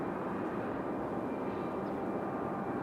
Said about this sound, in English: 2699 coming in from Minneapolis on an A320-200